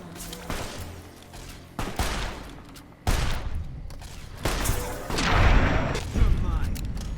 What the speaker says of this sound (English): This gun does no damage.